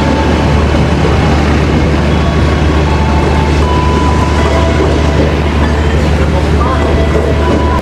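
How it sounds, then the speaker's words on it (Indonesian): The Purwojaya passenger train from Cilacap to Jakarta Gambir pulls out of the station with a loud, constant low rumble and faint clatter, voices murmuring underneath. "Di jalur 2 diberangkatkan kereta Purwojaya dari Cilacap tujuan Jakarta Gambir."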